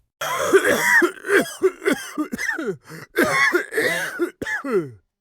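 Harsh, repeated coughing fits with throat clearing, close and loud, in bursts separated by short pauses.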